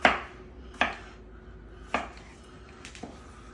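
A knife slices a watermelon into thick steaks, giving four sharp, separate chops onto a board with quiet gaps in between.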